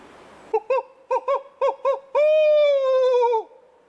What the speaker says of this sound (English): That owl's pretty got a loud voice.